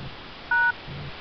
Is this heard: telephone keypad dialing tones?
yes